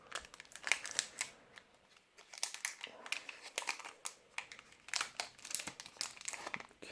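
Crinkly foil wrappers of Star Wars CCG Young Jedi Boonta Eve booster packs being torn and crumpled open, close-up bursts of rustling and ripping in uneven clusters with short pauses between.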